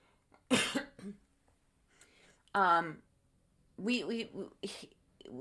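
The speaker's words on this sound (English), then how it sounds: "Excuse me, I have to cough." A few sharp coughs from a nearby person, with a throat-clearing burst in between and brief pauses of near silence.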